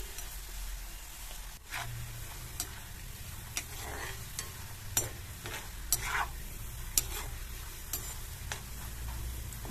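Ginger frying in hot oil on medium flame for Kerala-style puli inji, a steady sizzle with scattered sharp crackles and a stirring clatter around the pan, close and continuous with no talking.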